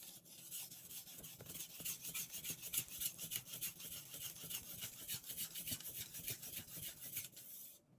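A knife blade rasps steadily across a 3000 grit whetstone in continuous back-and-forth strokes, a close, even scraping that stops just before the end.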